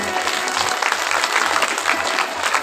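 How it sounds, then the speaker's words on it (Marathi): An audience at a Shiv Puran religious gathering claps together, a loud, sustained patter of many hands filling the space without pause. "टाळी वाजवा स्वतः जरा."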